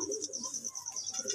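Soft, low cooing of a Saleti Kamagar pigeon mixed with a steady high-pitched chirping in the background, fairly quiet and continuous, in Lahore.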